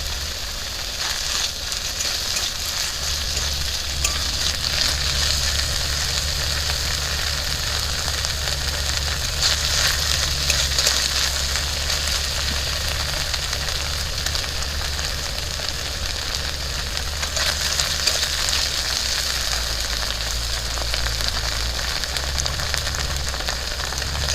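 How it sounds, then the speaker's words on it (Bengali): Paneer fries in a spoonful of ghee in a pan, a steady, loud sizzle and crackle running throughout over a low hum. "এক চামচ ঘি দিয়ে পনিরটা একটু হালকা করে নেড়ে ছেড়ে দিচ্ছি।"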